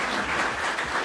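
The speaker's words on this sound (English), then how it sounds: "Everybody, one more time, a round of applause for our panel." A brief burst of steady audience applause for a panel at the close of a policy event on overcriminalization, dense and even throughout.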